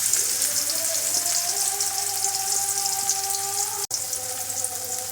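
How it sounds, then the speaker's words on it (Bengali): Chopped onion and garlic frying in a pan for Bengali mutton kosha make a steady, even sizzle throughout, with a faint low hum underneath and no speech. "তো ভালোভাবে পেঁয়াজটাকে আমি ভেজে নেব।"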